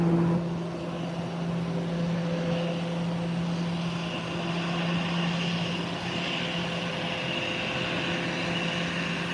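An American Airlines airliner taxis toward the taxiway, a steady engine drone with a constant tonal whine over broadband rumble, fairly close and even throughout, with no voices.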